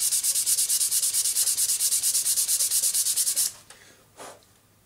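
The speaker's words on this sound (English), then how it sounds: "I'm just sanding the front and back down to 400 grit now." Rhythmic back-and-forth sanding of a wooden lyre with 400-grit sandpaper, quick regular scratchy strokes, close up, then stopping with a couple of lighter rubs.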